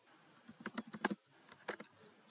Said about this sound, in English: Typing some code